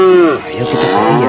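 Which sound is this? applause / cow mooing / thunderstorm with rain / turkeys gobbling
cow mooing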